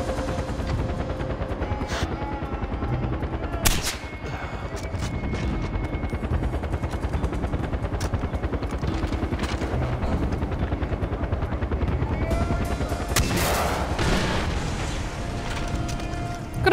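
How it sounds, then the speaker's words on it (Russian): Helicopter rotor drone with bursts of gunfire and explosions in the Far Cry 4 video game, a dense continuous mix with sharp louder shots around the fourth and thirteenth seconds. "Так, вон вертолет, я слышу, кстати."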